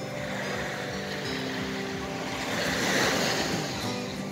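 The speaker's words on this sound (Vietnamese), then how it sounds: "sóng biển dập dìu" Sea waves washing onto a clean, fine-sand beach at Quy Nhon, Binh Dinh, at dawn, a steady broad surf wash that swells slightly toward the end, with no voices.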